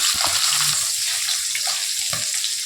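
Koi fish frying in hot oil, a steady bright sizzle and bubbling hiss throughout, close and continuous with no talk.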